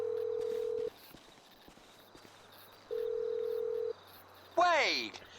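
In Grand Theft Auto V, a phone call plays two steady, moderately loud in-game ringback tones separated by a quiet gap, followed by a short, bright chiming burst that fades out.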